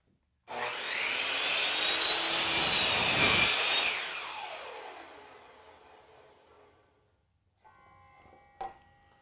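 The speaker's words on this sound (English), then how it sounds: "So that's one example of a compound cut in a piece of crown molding." Skil miter saw slicing a compound cut through crown molding: a loud whining blade bites in, rises to a sustained cutting roar, then winds down over a few seconds, followed by quiet and a small click.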